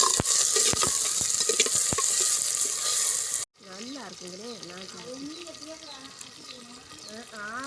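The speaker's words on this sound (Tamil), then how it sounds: "வெங்காயம் தக்காளி எல்லாமே நல்லா வதங்கிடுச்சு" Onions and tomatoes sauté for fish curry in a hot pan, a loud close sizzle with stirring clatter for a few seconds, then it cuts off and someone talks over quiet cooking noise.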